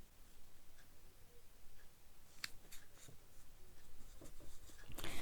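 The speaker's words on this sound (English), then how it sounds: "fold this in. Now with these I just use my thumbnail" Paper folded and creased with a thumbnail, faint soft rubbing and scratchy scrapes close up, with a few sharper brief crinkles near the end.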